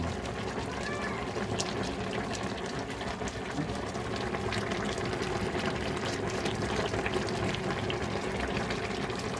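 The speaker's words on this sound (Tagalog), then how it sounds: "Kumukulo-kulo pa yan guys, oh." Constant bubbling and sizzling of pakbet with tilapia boiling in a pot, a steady dense simmer throughout.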